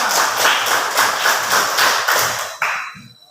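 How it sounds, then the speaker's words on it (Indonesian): Children in a classroom clapping together in a quick, rhythmic group pattern, steady and fairly loud for about two and a half seconds before breaking off into a final burst and fading. "Tepuk tangan."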